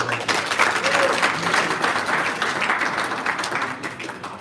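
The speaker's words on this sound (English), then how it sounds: "So let's clap for the embassy." Applause at a convention talk show for the embassy, a steady wash of clapping from a seated crowd that fills the stretch and fades slightly toward the end, with some faint voices mixed in.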